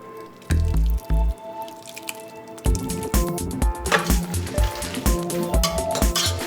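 Hot linguine tossed with vinaigrette and creamy pasta water, giving loud wet squishing and dripping slaps, a few heavy sloshes early then a busy run of squelches and faint sizzling, with no talk.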